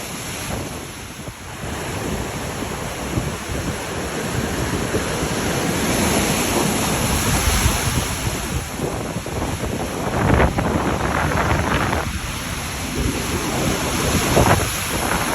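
Lake waves roll and break continuously on a shore, with heavy wind buffeting the microphone and occasional louder surges of surf.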